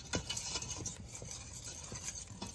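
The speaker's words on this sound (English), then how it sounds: "Equal amount of flour, about 6 tablespoons. We're just going to whisk this up" A whisk stirs about six tablespoons of flour into melted butter to make a roux for potato soup, giving quick, close scraping strokes against the pot with a faint sizzle underneath.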